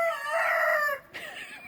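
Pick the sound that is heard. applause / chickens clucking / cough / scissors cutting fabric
chickens clucking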